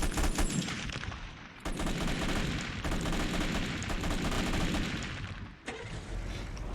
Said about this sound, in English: And it's also got a machine gun.